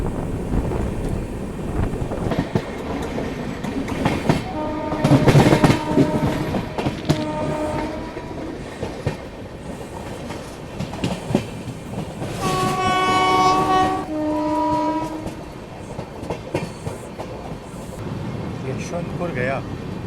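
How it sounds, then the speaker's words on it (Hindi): A Bharat Gaurav passenger train rolls by close to Banaras railway station, its rumble and clattering wheels mixing with wind buffeting, and a train horn sounds in clear sustained blasts partway through; voices talk over the scene. "ये तो पूरी भारत गौरव ट्रेन लग रही है मेरे को"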